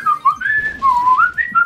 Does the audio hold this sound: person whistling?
yes